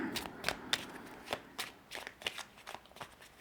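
Tarot advice cards being shuffled close by, a quick run of crisp riffling slaps and soft papery flicks in an irregular rhythm, fairly quiet.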